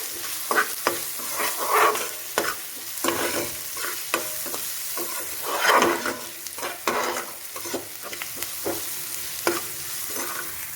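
Potatoes frying with turmeric, red chilli and salt for chilli potato, stirred continuously so a loud sizzle rises and falls with repeated spatula scrapes and clatters against the pan, close and busy throughout.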